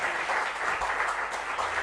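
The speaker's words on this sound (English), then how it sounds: "So let's give a big round of applause for Mr. Shekhar Surve." A seminar audience at a half-day session on surfactants breaks into a big round of applause, a dense, steady wash of many hands clapping close by throughout, with no talk over it.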